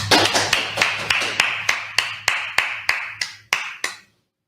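A single person claps about a dozen times in a steady, fairly quick rhythm, each clap sharp and close, then the clapping stops.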